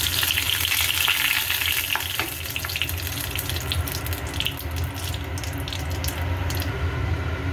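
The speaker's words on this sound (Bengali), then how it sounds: "এবার তেলের মধ্যে আমি একটু জিরে, একটা তেজপাতা আর একটা শুকনো লঙ্কা ফোড়ন দিয়ে দিলাম।" Cumin, a bay leaf and a dried red chili crackle in hot oil for a sattu kachori tempering, a loud close sizzle with scattered pops and a few stirring clinks throughout.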